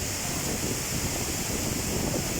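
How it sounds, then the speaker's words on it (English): Waterfalls at Brecon Beacons, heard from up close on a walk behind the falling water: a loud, steady, broadband roar of rushing water that fills the whole clip without a break. "to experience how is it to walk behind these magnificent waterfalls"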